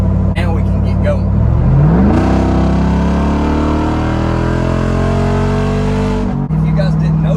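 Straight-piped Jeep Wrangler Rubicon 392 V8 revving loud and close, a deep roar climbing in pitch through a long sustained rev and then dropping back to a rumbling idle.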